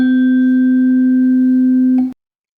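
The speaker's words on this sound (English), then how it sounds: "I'm going to hit this tuning fork." A struck tuning fork rings a steady pure 256 hertz tone for about two seconds, clear and close, then stops abruptly into silence.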